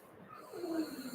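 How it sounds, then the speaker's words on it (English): A dog snores lightly, a soft nasal snort and breathy rasp rising slightly toward the end, faint and close in a quiet room. "I could hear your dog snoring, but very lightly"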